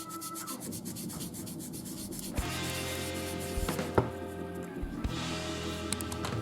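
Sandpaper rubbing mould lines off plastic parts of a Revell 1/24 Ford GT Le Mans 2017 model kit, a close, continuous scratchy rasp of quick back-and-forth strokes with a few small knocks.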